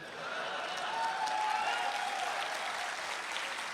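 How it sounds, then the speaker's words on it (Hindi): Moderate, steady applause from a poetry recital audience, a dense wash of clapping that holds evenly throughout with a faint tonal sound in the middle. "ये जोरदार तालियों वाली थी, लेकिन आपने उतनी नहीं बजाई जितनी चाहिए थी।"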